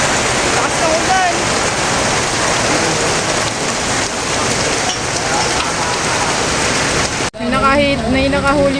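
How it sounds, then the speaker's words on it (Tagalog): Heavy typhoon rain pours down steadily in Marikina in a dense, loud hiss, with brief faint voices, then the sound shifts abruptly near the end as a voice speaks closer. "malakas ang ulan"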